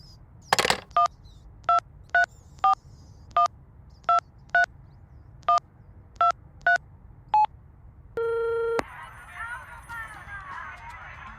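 A cordless phone dials out with about a dozen short, evenly spaced beeps, then a longer steady tone, followed by a fainter hissy line sound as the call connects.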